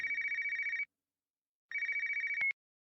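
A telephone rings twice with an incoming call, each ring a clean trilling electronic burst of under a second, separated by a short silence and ending with a click.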